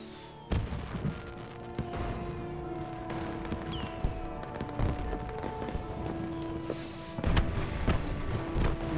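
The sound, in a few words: fireworks and gunshots from the animated show Helluva Boss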